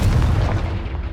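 A Confringo blasting spell goes off in the video game Hogwarts Legacy, one deep, booming explosion with a heavy low rumble that fades over about a second, loud and close, with no talking.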